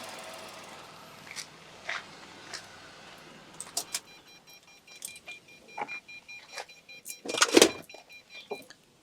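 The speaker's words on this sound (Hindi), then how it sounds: "तो अभी हम लोग डिवाइस को गाड़ी को ऑफ कर देते हैं" A car is switched off, with key jangling, clicks and short mechanical whirs and clunks spread over several seconds, close by and fairly quiet, ending in a louder burst of rattling.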